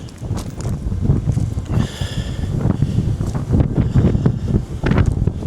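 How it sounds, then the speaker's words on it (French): Strong seaside wind at Cape Erimo, Hokkaido, buffets the microphone in heavy, gusty rumbles that surge and ease unevenly throughout, loud and close with no voices heard. "Vous vous rendez pas compte à quel point il y a du vent."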